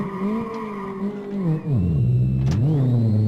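Renault Megane 2 engine revving hard through a drift, the roaring note dipping and swelling as the throttle is worked, loud and close with tire noise underneath and no talking.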